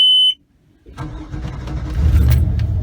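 The fuel-injected engine of a 2006 Four Winns 290 Horizon boat cranks after a brief key-on warning tone, then catches and settles into a loud, close, steady idle rumble.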